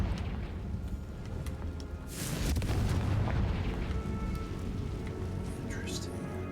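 In Hogwarts Legacy, a Confringo fire-blast spell goes off with a broad rumbling boom and a rushing burst midway, over continuous game ambience, and a voice talks over it.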